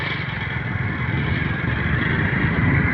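A motorcycle engine runs steadily while a learner rides, a continuous close mid-pitched drone with slight rising revs throughout and no talk.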